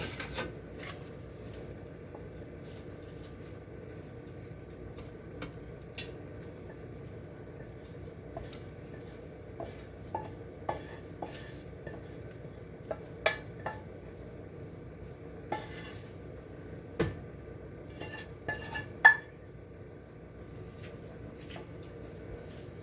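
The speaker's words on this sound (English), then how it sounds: "I'm gonna scoop my shrimps on and put it on top, and put them on top of the rice" A spoon scoops shrimp scampi from a pan onto rice in a serving dish, making scattered light clinks and scrapes of metal on dishware, quiet and close, with no talking.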